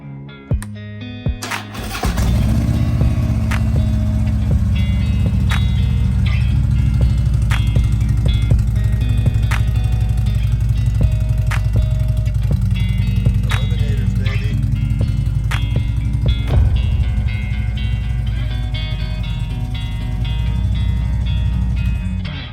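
A Harley-Davidson 2010 Street Glide motorcycle starting up, a brief crank followed by a loud, steady, close engine idle with a deep rumbling throb that holds for about twenty seconds.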